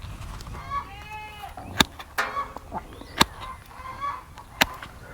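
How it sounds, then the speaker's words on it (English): Chickens cluck and warble softly in the background, punctuated by a few sharp clacks, with no talking. "Well, them chickens just singing."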